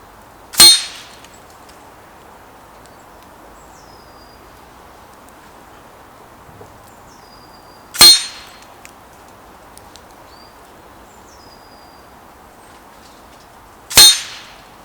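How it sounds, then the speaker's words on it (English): Three sharp metallic clangs ring out at wide, even intervals as air rifle slugs from an FX Impact MkII strike a metal target 50 metres away, with a faint insect drone underneath. "Strike noise was noticeably lower from the shooting position 50 metres away."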